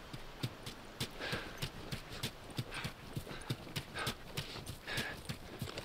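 Horse hooves clip-clopping in The Last of Us video game, a steady walking rhythm of sharp distinct hoof strikes, fairly close and moderately quiet, with faint ambient background and no voices.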